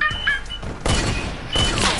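Video game gunfire comes in two loud, close blasts about half a second apart, each a broad burst with a short tail, and no talking.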